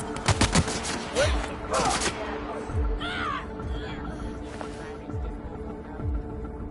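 Gunfire in The Outer Worlds, a chaotic firefight with scattered shots and thumping impacts, mixed with shouting enemy voices and other combat noise.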